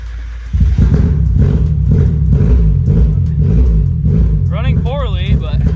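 Mazda Miata engine running roughly after a throttle position sensor install, a loud uneven idle rumble throughout with a brief rising mechanical whine near the end.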